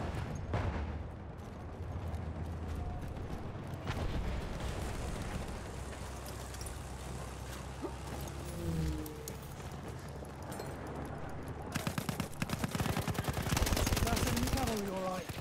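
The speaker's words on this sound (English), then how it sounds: "what are these, like, cannons that I'm being shot by?" Rapid, repeated booming cannon fire in the video game Battlefield 1 forms a steady barrage of blasts throughout, growing louder and harsher near the end.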